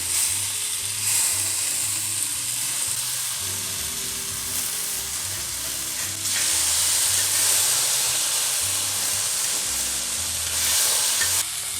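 Sankara fish fries in oil in a pan, a steady close sizzle and hiss with occasional stirring or shifting, swelling louder at a couple of points when the fish is turned or oil is added.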